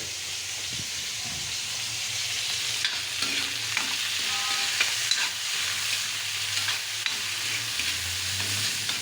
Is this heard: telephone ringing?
no